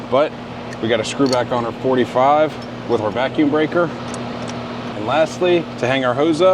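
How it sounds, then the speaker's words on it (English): A steady low mechanical hum from an outdoor air conditioning unit running right behind someone talking close by. "I apologize for the noise as my AC unit's running right behind me"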